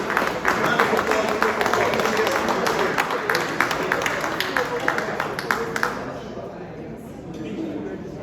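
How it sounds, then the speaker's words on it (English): Round of applause at a golf tournament awards reception, a crowd clapping loudly and steadily for several seconds before tapering off, with a voice talking under and after it. "Round of applause, please."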